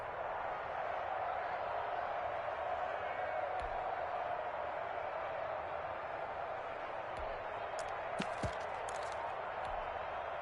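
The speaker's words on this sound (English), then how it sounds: "The crowd getting into it as we come up on a big third down" Crowd noise in an American football video game, Patriots at Bills, a broad steady roar from a large stadium audience with a few sharp clicks, continuous throughout.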